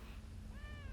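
A cat in a video game gives one short meow, rising over a low background rumble in the second half.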